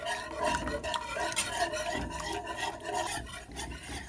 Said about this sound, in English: I have not stopped whisking it together